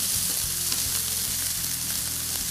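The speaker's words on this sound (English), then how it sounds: "So I want us to start sauteing those to soften them, along with my red onion." Swiss chard stems and red onion sauté in a pan, giving a dense, steady sizzle with a low underlying hum and occasional small crackles, close up and without talk.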